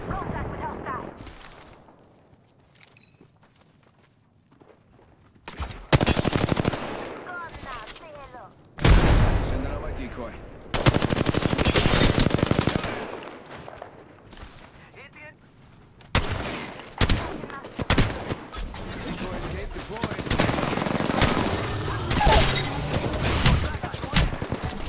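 Mastiff shotgun blasts in Apex Legends, several loud, booming shots spread through the stretch with some gunfire bursts, alongside game effects and a voice talking over parts of it.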